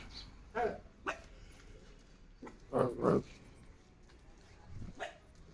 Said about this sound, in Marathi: कुत्रा भुकतंय, आता भुकतच राहणार वाटतं.